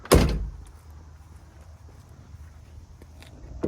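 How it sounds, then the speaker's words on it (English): A single loud, close thunk as the hood of a 1969 Porsche 911T is popped open, then faint handling noises and a small knock near the end; no talking. "I guess I should probably also pop the hood here."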